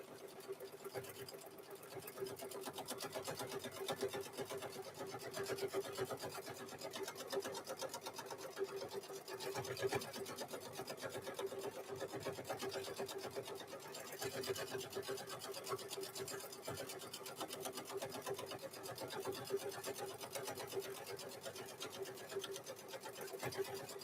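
A sewing machine stitches through thick layers of fabric for microwave bowl koozies, a fast steady whirring hum with rapid needle clatter, running nearly continuously at close range with no talk.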